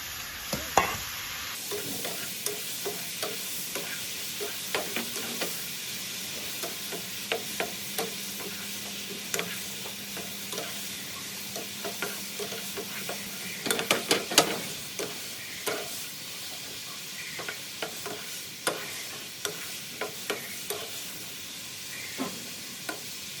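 Tomatoes dry-roast in a pan for a Thai chili dip: a spatula scrapes and stirs in repeated strokes over a soft, steady sizzle.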